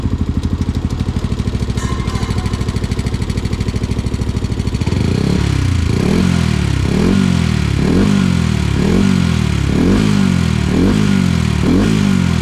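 A motorcycle fitted with an aftermarket knalpot exhaust in racing mode: a steady rapid idle gives way to loud, rhythmic revving, roughly eight repeated throttle blips rising and falling close to the listener, with no talking.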